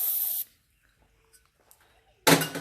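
Brake and parts cleaner sprays from an aerosol can in two sharp hissing bursts, one at the start and one near the end, separated by near silence with faint small clicks.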